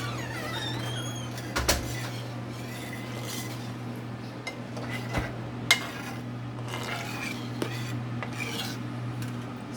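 A spoon scraping and clinking in a pot of homemade Alfredo sauce, with scattered metallic taps and clinks over a steady low kitchen hum, no talking.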